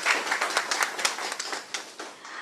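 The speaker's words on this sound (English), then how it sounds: "May we please have a huge round of applause." Applause from an audience at a formal India-Poland trade and investment event, a dense steady patter of many hands clapping that carries on evenly for a couple of seconds without talk.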